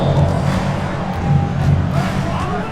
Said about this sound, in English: rounds of applause.